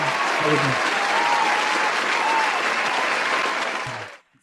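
A canned crowd-applause sound effect played during a magic lecture, a dense, loud, continuous wash of clapping that cuts off abruptly near the end, with brief voice fragments at the start and finish.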